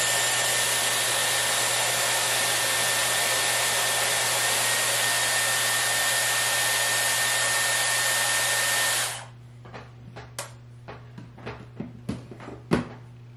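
A Dyson Airwrap hair styler blows at a steady, loud whoosh for about nine seconds, then switches off. A few light clicks and knocks follow as it is handled.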